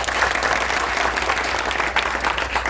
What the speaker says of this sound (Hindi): एक बार जोरदार ताली से इनका स्वागत।